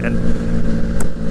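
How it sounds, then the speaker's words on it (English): A 2020 Triumph Street Triple 765 RS engine running smoothly in fifth gear at about 26 mph around town, a steady low drone under a rider's talking. "I'm in 5th gear doing 26 mile an hour, and look how smooth it is"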